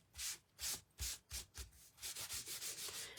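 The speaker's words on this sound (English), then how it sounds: "I'm just going to rub it." A paper towel rubbed over a wood-grain painted surface, about five firm strokes followed by quicker, shorter scrubbing passes, close and dry with no talking.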